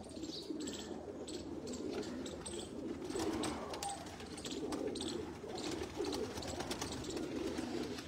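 Pigeons coo repeatedly close by, soft low warbling calls overlapping in loose rhythm, with faint chirps and a steady background hum, no talk.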